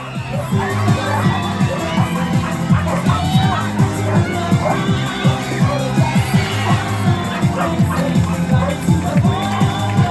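Crowd at a SuperDogs race at the Timmins Fall Fair cheering and shouting, children's voices prominent in a loud continuous din with babble throughout.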